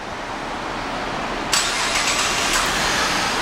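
A 2011 Cadillac SRX SUV is remote-started, with quiet background hiss before the engine abruptly catches and settles into a steady, close idle hum, no voices.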